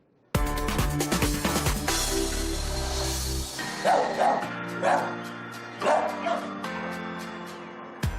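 A dog yips and whimpers excitedly with high-pitched bow-wow barks, first in a dense burst and then in separate repeated calls, close and loud over a faint background.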